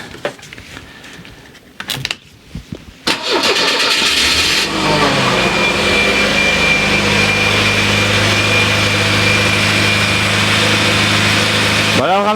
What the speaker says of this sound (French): Voilà, le ralenti est pas trop mal.